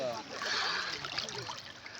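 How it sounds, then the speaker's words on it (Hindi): River water flowing and splashing, a steady bright rushing trickle close by with small splashes, while a voice talks intermittently over it. "ए देखो पानी"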